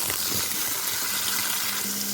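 Onion and chili browning in a pan with vegetables going in, giving a steady, close, broadband sizzle of frying throughout with no talking.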